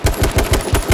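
Rapid, loud gunshots in the video game H1Z1 Battle Royale, six close, evenly spaced cracks fired in quick succession over about a second.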